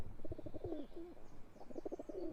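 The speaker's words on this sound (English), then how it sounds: "That is definitely a male feral pigeon chasing a female pigeon." A male feral pigeon gives two grumbling, throaty coo phrases while chasing a female, fairly close over faint outdoor background, with a short pause between the calls.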